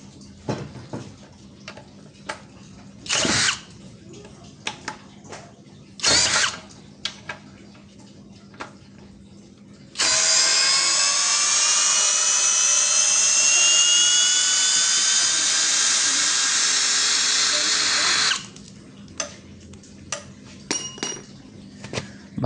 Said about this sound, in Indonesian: Mata bor 16 mili, mata bor beton. Ini cor-coran ya, tiang. Kita coba.